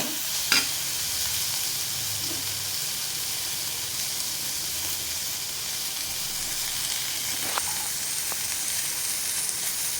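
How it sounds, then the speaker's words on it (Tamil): Cluster beans sizzle steadily in a hot pan, with a few light scrapes and stirring clinks over the constant frying hiss. "2 நிமிஷம் இப்படி வதக்கிட்ட பிறகு"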